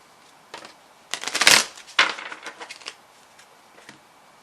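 A deck of cards is riffled and shuffled in a few quick bursts, close and crisp, with short pauses between.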